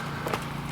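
A horse being ponied clip-clops in a brief stretch of soft, even hoofbeats over a low steady background rumble.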